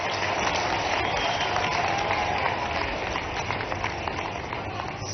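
A crowd at a public government event in Shujalpur, Shajapur district, claps steadily throughout, a dense muffled patter of many hands that slightly thins toward the end.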